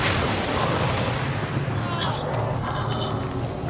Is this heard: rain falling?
no